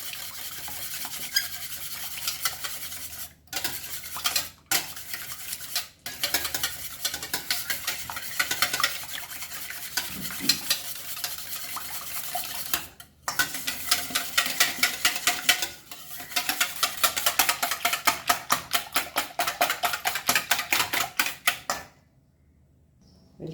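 A utensil stirs a French toast egg mixture with a little salt in a bowl, scraping and clicking in a steady repeated rhythm, close and fairly loud, with brief pauses and a quickening run of strokes near the end.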